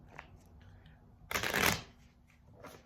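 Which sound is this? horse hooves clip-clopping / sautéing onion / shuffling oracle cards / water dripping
shuffling oracle cards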